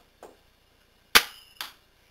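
A Nerf Barrel Break IX-2 blaster fires with a faint click, then a loud sharp snap followed by a softer second pop a moment later, close and with no talking.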